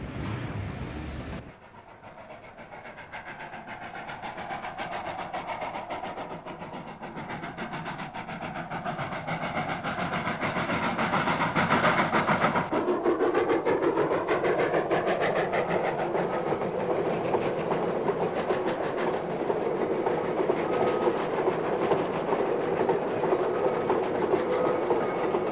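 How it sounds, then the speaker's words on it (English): A goods train headed by an A-class locomotive in New Zealand rolls towards Westport, its rumble building from a quiet start into a loud, steady roar with rhythmic wheel clatter that holds close for most of the stretch. "a goods train travels towards Westport"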